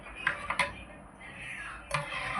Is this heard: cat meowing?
no